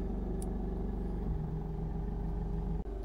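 Steady idle of a Honda CR-V 1.6 i-DTEC diesel automatic 4WD, a low, even engine hum heard from close by with a brief click near the end.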